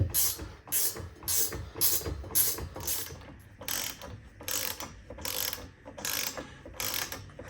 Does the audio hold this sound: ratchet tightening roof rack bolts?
yes